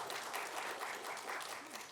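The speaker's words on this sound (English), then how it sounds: "Can we give them a round of applause, please?" Steady audience applause rolls through a room after an organic vegetable improvement project presentation, an even, sustained round of clapping heard slightly distant and fairly quiet.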